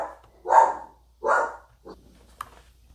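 A pet dog barks at a house door, giving two loud, drawn-out barks followed by a shorter softer one and a faint final yip, somewhat distant in an otherwise quiet room.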